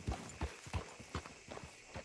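Horse hooves clip-clop at a steady walking pace in Red Dead Redemption II, about six distinct thuds over two seconds, close and moderately loud with no talk over them.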